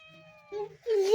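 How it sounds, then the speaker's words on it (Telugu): A cat meows twice in quick succession inside a house during a power cut, the second cry louder and longer, with a faint voice murmuring before the calls. "అగో పిల్లి నిఖిల్, పిల్లి. ఇదిగో పిల్లి"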